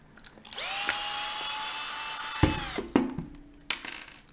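A cordless power screwdriver backs two screws out of the brewing head of a Nivona coffee machine, a rising whine that runs for about two seconds, then short bursts and clicks as a screw comes loose.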